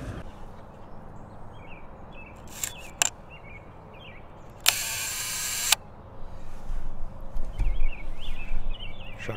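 A large format camera shutter clicks open, hisses for about a second, then snaps shut, close against quiet outdoor ambience by an old barn with faint birdsong.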